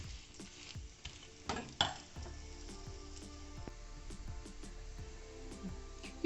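Veechu parotta cooks in oil on a hot dosa tawa, a steady sizzle broken by sharp spatula taps and scrapes, the busiest clatter near the start, close and moderately quiet, no speech.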